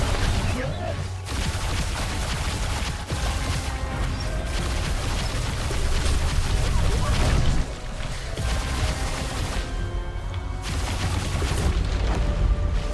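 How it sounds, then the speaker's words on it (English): Mortars firing in the video game Voidling Bound, heavy booms and blasts repeating over a dense backdrop of game combat noise, with a voice talking over parts of it. "I hate the mortars."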